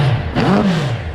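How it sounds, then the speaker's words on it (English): A Hayabusa-swapped mini truck engine blips its revs once, the intake roar rising and falling in a short, loud burst close by. "All that noise is the intake."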